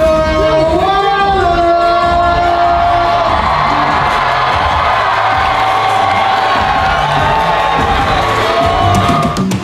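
A concert crowd in a music venue cheers, whoops and yells continuously, loud and close, with high shouts rising over a dense roar for nearly ten seconds.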